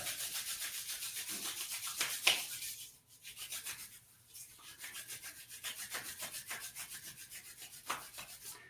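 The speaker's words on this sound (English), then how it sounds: "Rubbing the hands together." Palms rubbing briskly together in a steady back-and-forth rhythm, a close, dry swishing friction repeated many times with a brief pause midway.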